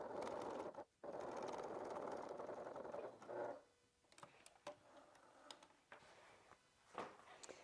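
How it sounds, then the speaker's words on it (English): A sewing machine runs a second row of stitches on a Dior-inspired wallet, whirring steadily and close for about three seconds with one short pause, then falls to scattered light ticks and clicks. "I'm going to stitch from this side this time and go ahead and do a second row of stitches."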